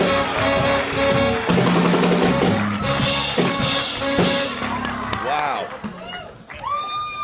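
An audience cheers, whoops and claps for Violent J of Insane Clown Posse, loud and close with shouting voices, the noise tapering toward the end.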